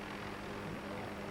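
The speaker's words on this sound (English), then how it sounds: "everything comes in hanging underneath the helicopter" Helicopter carrying an underslung load to a remote mining camp, its rotor and engine drone steady and close, a continuous low throb with no talk over it.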